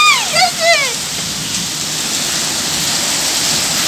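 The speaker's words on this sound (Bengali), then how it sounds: "টিনের মধ্যে খুব ধুপধাপ আওয়াজ হচ্ছে, শিল পড়ছে, বৃষ্টির সাথে শিল পড়ছে," Hail and rain pour onto a tin roof in a dense, steady roar, loud and continuous, with a brief warbling voice near the start.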